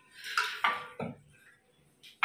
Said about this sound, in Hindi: तो इसमें चढ़ा देते हैं दाल कुकर में